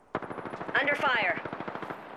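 Rapid automatic gunfire in Apex Legends rattles off in a fast, evenly spaced burst of sharp cracks, close and loud, with a brief whooshing effect midway.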